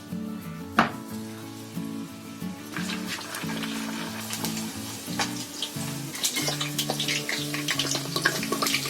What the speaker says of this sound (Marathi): पुरीचं तेल सुद्धा तापलेलं आहे. आता त्याच्यामध्ये एक एक पुरी टाकायची.